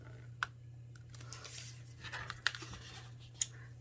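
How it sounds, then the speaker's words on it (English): Scissors cut paper along a score line for a slider treat box, making faint, sparse snips with a few sharper clicks over a steady low hum. "right where my scissor rests, we're going to turn it, and we're going to cut a diagonal up to the next score line"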